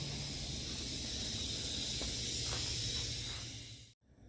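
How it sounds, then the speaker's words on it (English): Compressed air escapes from a small leak in a garage where a 1960 Impala convertible's floor pan is being replaced, a steady broadband hiss that holds for about four seconds and then cuts off abruptly. "sorry about that, got a little air leak"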